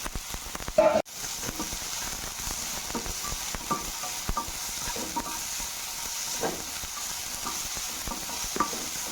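Carrot, capsicum and onion sauté in a pan for noodles, a constant close sizzle with light intermittent stirring scrapes and one sharp clatter near the start.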